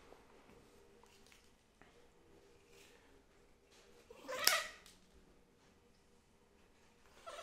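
A pet cat gives a single loud, drawn-out meow midway through an otherwise quiet stretch while having its nails trimmed at home, with faint handling noise around it.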